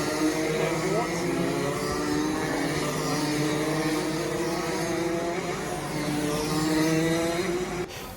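KZ2 racing kart engines screaming at high revs on a track beside the rider, loud continuous buzzing drone with shifting pitch, a Sodi KZ kart running alongside; faint voices in places.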